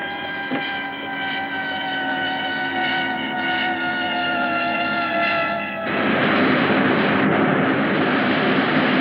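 A cartoon aircraft engine roars steadily through a power dive, its harmonic drone loud and continuous, then abruptly shifts into a broader, rushing roar near the end, with no talk over it.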